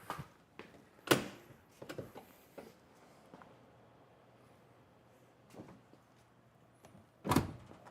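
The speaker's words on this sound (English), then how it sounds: "So let's actually close the door here." A van's door is shut in a quiet interior: faint shuffling and clicks, a sharp thunk, a few softer knocks, then a second solid slam near the end, with no talking.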